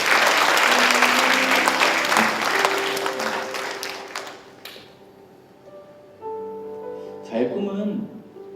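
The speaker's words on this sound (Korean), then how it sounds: "우리 귀한 반주자에게 박수 한번 보내드릴까요?" A church congregation applauds the accompanist, dense clapping that fades after a few seconds, followed by scattered voices and a sung or spoken tone.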